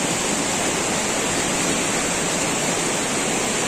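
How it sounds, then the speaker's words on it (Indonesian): Small waterfall dropping straight into a river, a steady, loud broadband rush of falling water that fills the whole stretch evenly with no break and no voices. "Di depan kita nih ada air terjun lagi ya"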